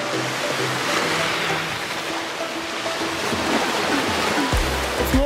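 Sea water washes against the coast at Zakynthos in a continuous, fairly loud rushing surge. Faint tonal hums sit underneath, and a low thump comes near the end.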